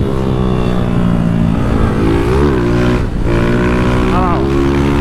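Honda Titan 160 motorcycle engine running steadily while riding, its loud droning harmonic tone with slight pitch shifts hinting at a brief stumble, alongside wind and road noise.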